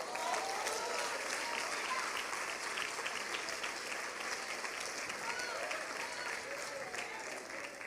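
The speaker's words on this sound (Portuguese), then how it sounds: "Pode aplaudir a Jesus." A church congregation applauds, a broad wash of clapping from a crowd that holds steady and loud throughout, with voices mixed faintly into it.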